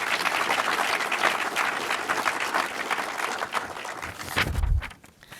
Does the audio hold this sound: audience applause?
yes